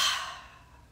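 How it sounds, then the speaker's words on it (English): A single deep breath drawn in during a guided breathing exercise, close and soft, a brief airy inhale that fades over under a second with no talking. "Do one more deep breath in."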